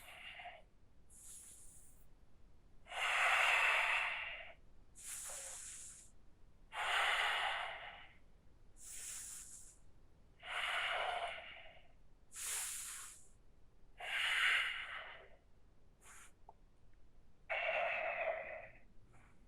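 Slow, steady breathing during a yoga pose: about eight long, airy inhales and exhales, evenly spaced every couple of seconds, close and clear with no talk.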